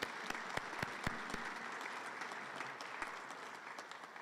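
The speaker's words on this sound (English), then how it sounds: "Let's give them a round of applause." An audience at a college centennial and all-century teams announcement event applauds the honorees, a fairly faint, steady patter of clapping with a few sharp, close hand claps standing out near the start.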